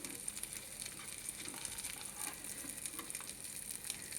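Shami kebabs made from pre-boiled meat frying in a pan, a steady soft sizzle and crackle of hot oil continuing evenly throughout without pause.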